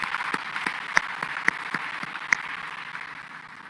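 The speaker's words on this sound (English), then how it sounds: "I think we should give another round of applause to the finalists" Audience applause for finalists at an agriculture and food systems forum, a moderate crowd clapping steadily with a few sharper, louder claps standing out over the even patter.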